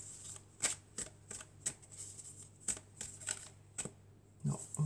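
Tarot cards shuffled by hand in quick riffling bursts, a run of crisp flutters and slaps repeating roughly every half second, close and clear over a faint hum.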